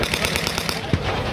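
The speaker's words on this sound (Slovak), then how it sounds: "SU-100 postupuje." An SU-100 tank destroyer fires its 100 mm cannon during a battle reenactment, heard as a single sharp low boom near the end amid a dense, continuous din of distant gunfire and rumbling battlefield noise.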